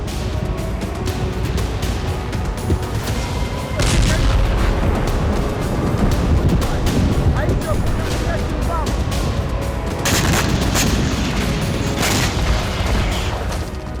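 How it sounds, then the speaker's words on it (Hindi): Explosions from a Russian strike on Ukraine and Romania come as repeated heavy booms and rumbling blasts under dense, continuous noise, with several sharp bursts standing out. "पुतिन ने नेटो कंट्री रोमानिया को भी बारूदी बवंडर से थर्रा दिया।"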